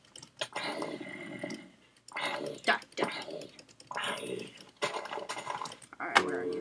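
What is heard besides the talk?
rapid computer mouse clicking while playing a video game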